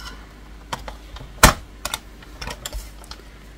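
Scrapbooking paper cut to size for an album, sounding as one sharp, loud crisp cut near the middle, surrounded by several lighter ticks and rustles of paper handling close by, with no voices.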